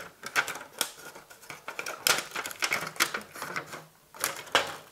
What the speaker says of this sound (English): take just a cheap little plant pot. Cut the bottom off it.